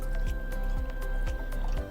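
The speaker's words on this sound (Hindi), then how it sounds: "तो यहाँ एक ग्लास में मैंने ये पानी भर दिया है।" Packaged branded water pours into a glass in a steady stream, with a run of soft, evenly spaced drips and gurgles over a low continuous hum.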